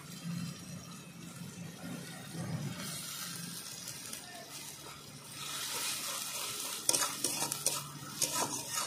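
Green chili paste, onion and spices fry in a pan for a bean and poppy seed curry, with steady sizzling, stirring scrapes and clinks of a utensil against the pan, growing brighter and busier toward the end.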